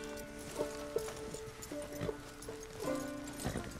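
Horse hooves clip-clopping in the video game Red Dead Redemption 2, a run of irregular hoof thuds at close range mixed with musical tones from the game.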